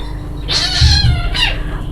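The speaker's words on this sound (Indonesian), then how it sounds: "Kucing aku main ya, makanya mereka ribut." Cats playing indoors let out a loud, close meow with a second shorter meow just after it.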